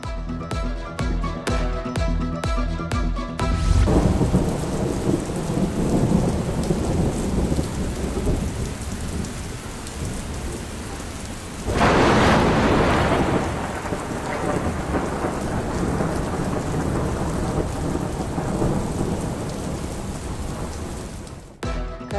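Heavy monsoon rain pouring over Karachi during a thunderstorm, a dense roaring downpour with a loud thunderclap bursting in midway, following a short musical sting at the start.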